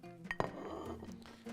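Dishes clink and clatter briefly while food is plated into a bowl, with a sharp ceramic knock followed by softer scraping and handling sounds.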